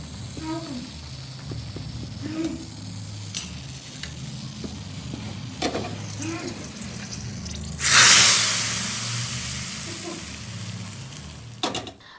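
Spices such as red chilli, dried fenugreek and asafoetida hit hot oil for tempering with a sudden loud sizzle that stays steady and slowly fades, after quieter kitchen clatter and faint background activity.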